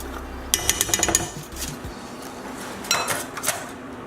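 Rice being fluffed in a pot, a quick burst of metal utensil scrapes and taps against the pot followed by a second shorter flurry, close and clear with no talk.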